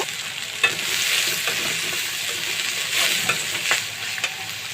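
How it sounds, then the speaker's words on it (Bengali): Onions frying in a pan after koi fish were fried in it, a steady sizzle with scattered scraping knocks of stirring throughout, close and without speech. "এখন আমার পেঁয়াজটা একটু ভাজা ভাজা হয়েছে"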